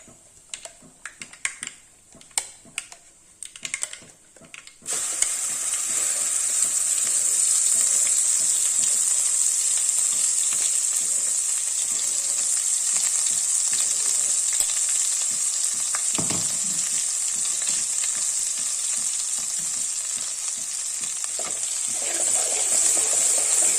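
Ground paste and curry leaves for a drumstick pulp thokku start with a few scrapes and clicks of a spoon, then a loud hiss of sautéing takes over as a steady, close, continuous sizzle with no voices.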